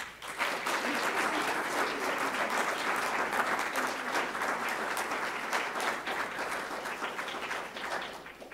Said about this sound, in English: So please help me congratulate Allison Dottie for serving as the president